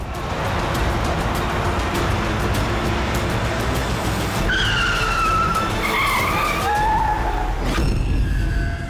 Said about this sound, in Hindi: ये इसने गाड़ी क्यों रोक दी?